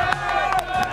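A high school football stadium crowd at Independence High cheers and roars loudly through a brief burst, with voices shouting over the steady din.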